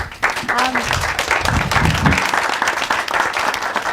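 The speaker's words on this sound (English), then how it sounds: "one last huge round of applause for Deng, Aminata," Audience applause at an event featuring former refugees sharing their stories, a dense, steady clapping that runs loud throughout with some crowd voices mixed in.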